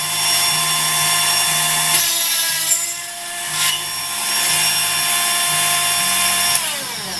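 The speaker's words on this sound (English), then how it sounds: "I'm just gonna drill the hole here." A small drill bores a hole in a circuit board, its high whine holding steady with a few short dips and restarts, loud and close, with no talk.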